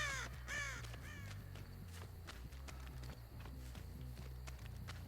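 Crows caw in the horror survival video game Dead by Daylight, several harsh calls bursting near the start and then scattered fainter caws over a low droning game soundscape with footsteps.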